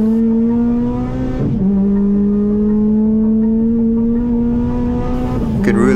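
A race car on track at Grand Bend Motorplex holds a loud, steady engine drone down the back straight, with brief dips during two gear changes near the start and end, close and continuous from inside the car.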